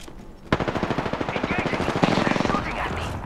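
Rapid automatic gunfire from the video game Apex Legends rattles in a fast, steady burst of evenly spaced shots, close and fairly loud.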